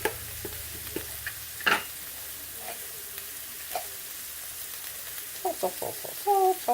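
Seasoned chicken with beans, pepper and salt stirred in a frying pan, with a faint sizzle under scattered scraping stir strokes and a few brief clinks near the end.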